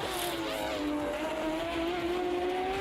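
GT and GTE race cars in the Automobilista 2 sim racing game, heard from outside the car: loud sustained engine drone with rising pitch as cars pass, no talk.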